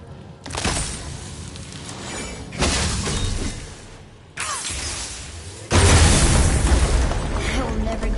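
Objects break apart in God of War in a string of heavy crashing impacts, four loud bursts of shattering debris each trailing off into rumbling noise.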